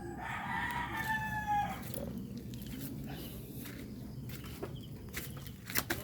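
A rooster crows once, loud and near, a drawn-out strained call lasting about two seconds, followed by scattered scratching and rustling footsteps and a few faint clucks nearby.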